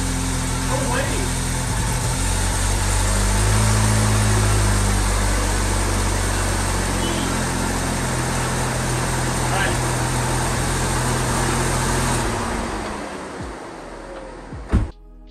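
An MK7 Golf R engine swapped into a VW Alltrack starts and then idles steadily up close, a broad engine drone that holds for about twelve seconds before cutting off, followed by a sharp knock near the end.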